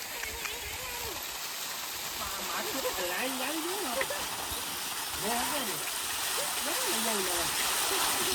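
Water flowing away from a pit where buffaloes bathe, a steady rushing gurgle that grows slightly louder, with several people talking over it throughout.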